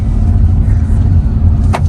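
A car drives along a rough, narrow road with a steady, close engine rumble that continues the whole time, and a brief bump or rattle is heard near the end.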